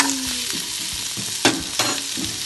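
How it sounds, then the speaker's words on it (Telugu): Dried red chillies for onion chutney fry in a pan with a steady close sizzle, punctuated by a couple of sharp scraping stirs, no voices. "ఎండు మిరపకాయలు, ఇలా అన్నీ ఫ్రై చేసుకున్న తర్వాత"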